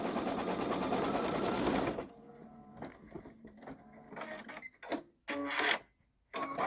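A Babylock Solaris 3 embroidery machine stitches out a design with a fast, steady mechanical whir for about two seconds, then stops, leaving quieter clicks and brief bursts of motor and handling noise.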